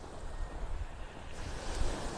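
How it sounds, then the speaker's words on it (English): Small ocean waves wash gently onto Vanderbilt Beach in Naples, Florida, a continuous soft surf close by with light wind buffeting the microphone. "Still got some little waves here coming in."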